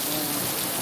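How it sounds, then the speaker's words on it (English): Steady, dense rain pours down during a thunderstorm outdoors in Laureles, Medellín, a close, continuous hiss filling the moment without a break. "The thing is getting past the rain."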